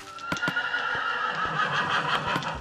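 A horse in Minecraft gives a loud, close whinny with a warbling, descending pitch, accompanied by a few sharp clicks like hoof steps.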